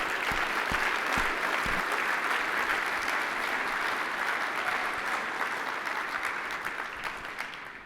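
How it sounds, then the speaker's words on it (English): Steady, fairly distant applause fills a corporate innovation awards event as the crowd honors regional and world winners, sustained and even throughout before tapering slightly at the close. "I would like us to start with a round of applause to all of those who won an award"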